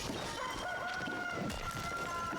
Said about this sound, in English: There was a rooster.